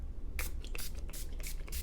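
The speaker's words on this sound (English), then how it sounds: "It's a small travel size spray." A small travel-size body spray bottle sprays in about four short hissing bursts, close and fairly loud, with no talking.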